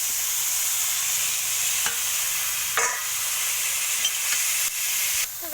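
Taro greens fry with onion in a wok for a hilsa fish head dish, giving a loud, close, steady sizzle broken by a few scraping stirs and clatters. No one speaks.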